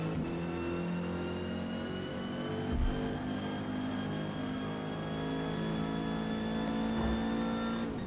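A Renault 8 Gordini racing in Forza Motorsport at Maple Valley, its engine droning steadily at high revs with a slowly rising pitch, loud and continuous throughout, with no talk.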